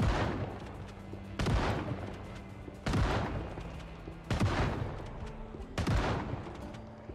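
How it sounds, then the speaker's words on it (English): Video game gunshots ring out in five sharp, loud bursts spaced about a second and a half apart, each with a quick decaying tail over steady low background noise. "Oops, fired all the shots."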